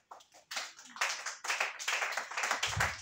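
A congregation at a worship service claps their hands in quick, uneven bursts with short gaps between them. The applause is moderately close and light, with a low thump near the end.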